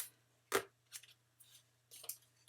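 Scissors snip through paper while trimming a scrapbook page: one sharp close cut followed by three or four lighter, quicker snips, all quiet against a faint steady hum.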